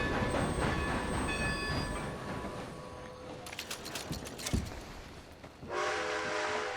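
Train in the video game Red Dead Redemption 2 rolling along in a steady rumble, with a sustained whistle-like tone early on, clattering bursts midway and a brighter rush of noise near the end.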